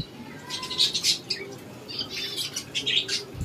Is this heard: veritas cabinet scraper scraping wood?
no